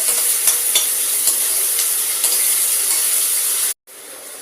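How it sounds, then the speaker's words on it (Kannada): Onions and tomatoes frying with curry leaves make a steady, close, bright sizzle with a few soft stirring taps, then cut off abruptly near the end. "ಈರುಳ್ಳಿ ಎಲ್ಲ ಚೆನ್ನಾಗಿ ಫ್ರೈ ಆಗಿದೆ. ಟೊಮೊಟೊ ಎಲ್ಲ ಫ್ರೈ ಆಗಿದೆ."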